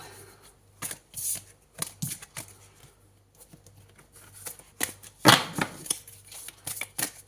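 Tarot cards are shuffled by hand in a quiet room: repeated short riffling bursts and soft slaps, irregularly spaced, close and fairly crisp, with no voices.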